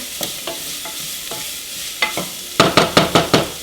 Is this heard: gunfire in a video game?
no